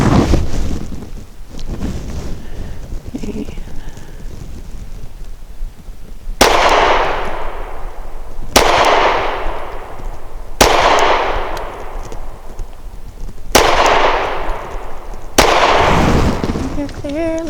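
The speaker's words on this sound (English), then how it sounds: "starting with the Glock 43, we're going to be putting 5 rounds downrange" A Glock 43 pistol fires five loud, sharp shots outdoors at a range, evenly spaced about two seconds apart, each with a decaying echo, over steady wind noise on the microphone.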